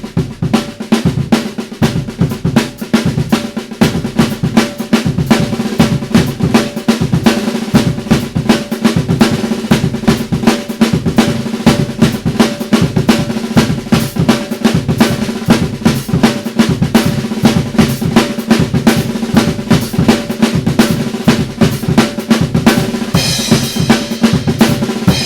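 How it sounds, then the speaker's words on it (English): A dense snare drum pattern built from flams and accents, played continuously and loudly with driving rapid strokes and punchy low kick hits underneath, no voices. "snare drum idea using flams and accents"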